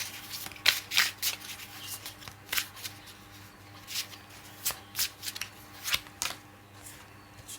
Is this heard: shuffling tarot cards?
yes